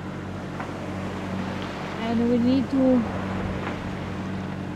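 A boat's engine, having trouble among reefs at sea, drones at a steady low hum throughout, with a person talking over it.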